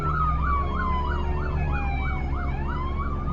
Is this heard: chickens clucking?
no